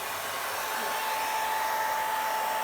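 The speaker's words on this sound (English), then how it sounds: "Hold the hairdryer." A hairdryer blows steadily on a Dutch pour painting, a loud continuous whooshing hum with a faint whine running unbroken from start to finish, close to the listener.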